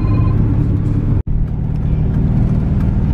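A Chevy truck fitted with a new motor runs steadily while driving, its engine a loud, continuous low rumble with one abrupt dropout partway through before it resumes.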